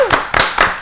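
Sharp, close hand claps in three quick bursts from an audience at a Kyrgyz TV game show, sounding crisp and near, with no speech over them.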